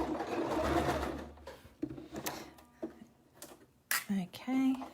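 Sewing machine stitching a curved seam while making a tailor's ham, running in short bursts with pauses between, loud and close, with voices talking through the gaps.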